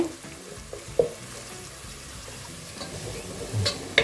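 Dried fruits, cut into small pieces, frying in ghee give a soft, steady sizzle with occasional faint clinks and stirring taps, quiet and close throughout.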